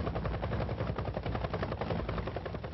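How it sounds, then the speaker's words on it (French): American military helicopters carry French soldiers over central Berlin, with a dense, continuous rotor thump and engine roar filling the whole stretch with no voices. "Ces hélicoptères américains transportent des soldats français en plein cœur de Berlin."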